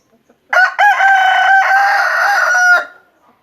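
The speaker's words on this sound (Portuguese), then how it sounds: "o áudio do galo cantando" A free-range country rooster crows once, loud and close, a long drawn-out cock-a-doodle-doo about two seconds long, heard alone against silence.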